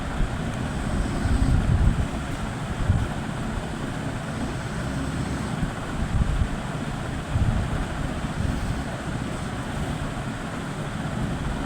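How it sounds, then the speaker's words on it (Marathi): Sea waves on a deserted beach late at night, a constant roar of surf mixed with heavy wind buffeting against the microphone, swelling in several louder surges, no talk. "आणि हा बघा पाणी, समुद्राच्या लाटा आणि सुनसान जागा."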